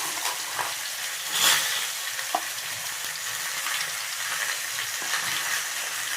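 Onion frying in hot oil with turmeric added gives a steady close sizzle and hiss, broken by occasional stirring scrapes and a louder burst of sputtering early on.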